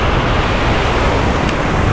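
Steady wind and surf rumble on a Galveston beach, a dense unbroken roar of breaking waves and gusting air with no talk.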